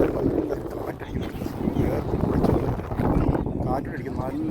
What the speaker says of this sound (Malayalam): കാറ്റടിക്കുന്നു നല്ല സുഖം.